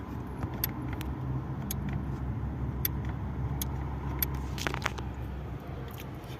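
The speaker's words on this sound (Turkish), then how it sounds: "Ve söndürdüğümde şuradaki sese bakın arkadaşlar bak. Role." Hyundai Getz rear window defroster relay clicking after the switch is turned off, a few sharp faint ticks spread over a steady low car-interior hum.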